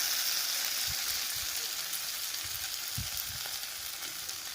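Paneer masala with peas and turmeric sautés in a pan, a dense, even sizzle throughout with occasional low knocks of the spoon against the pan, close by and without speech.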